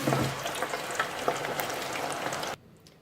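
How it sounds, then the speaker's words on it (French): Potatoes deep-frying in a home fryer, a steady dense sizzle and crackle of bubbling oil, fairly close and alone, that cuts off abruptly near the end. "Et là, je mets ma friteuse"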